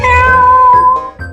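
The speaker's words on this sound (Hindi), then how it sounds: "हाँ, मेरी बिल्ली।" A cat gives a loud, close, drawn-out meow followed by a shorter second call, with no talking.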